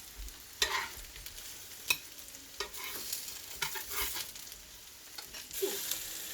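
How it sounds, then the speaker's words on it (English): Mushrooms frying in butter in a pan are stirred with a utensil, giving a steady sizzle broken by several sharp scraping and clattering strokes, close and fairly loud, with no talking. "Now the mushrooms you can stir up. Make sure they get a bit of butter on all different sides."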